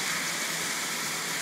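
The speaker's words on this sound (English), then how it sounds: "It's raining." Steady rain hisses down on a town street in Honiton, Devon, a dense, even wash of falling water with no voices over it.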